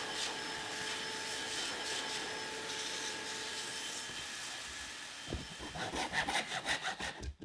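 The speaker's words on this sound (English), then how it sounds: "so however good the carving is, it would still need to be sanded" Quiet scratchy rubbing of sandpaper on a hand-carved wooden lamp base, soft and continuous at first, then quicker back-and-forth strokes growing louder toward the end.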